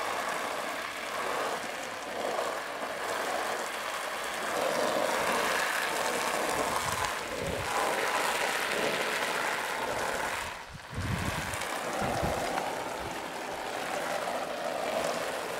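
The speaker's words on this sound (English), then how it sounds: "Hose me down, Patty." A garden hose sprays water onto a packable Pak-A-Roo duster waterproof coat outdoors, giving a steady broadband hiss that runs throughout, with brief louder bursts as the stream strikes the coat.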